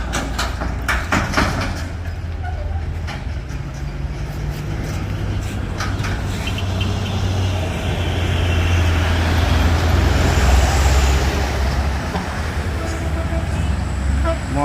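A wing box trailer truck and a car race along a busy road in steady traffic, with a continuous loud engine and tyre roar and passing vehicle noise throughout.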